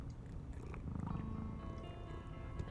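A cat purring and meowing softly in the video game Tales of the Neon Sea, a steady low rumbling purr with faint mews, quiet and continuous.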